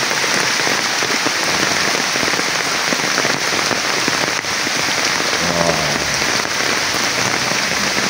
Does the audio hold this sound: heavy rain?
yes